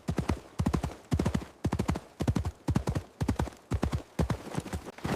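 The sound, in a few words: horse galloping, hooves clip-clopping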